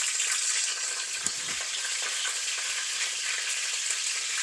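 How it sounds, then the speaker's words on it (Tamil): Mustard seeds and curry leaves frying in hot oil give a steady, fairly quiet sizzle with scattered crackles and one soft low thump partway through. "கடுகு சேர்த்துட்டு கொஞ்சம் கடுகு பொரியட்டும்."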